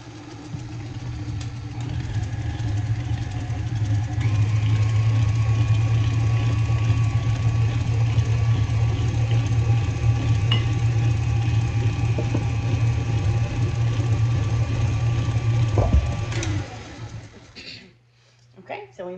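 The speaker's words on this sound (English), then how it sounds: "I'm going to go ahead and put in the vanilla as well. And go ahead and mix that up." Cake batter with vanilla for a fresh apple cake is whirred in an electric mixer, a loud, steady motor drone that holds for about sixteen seconds before winding down and stopping.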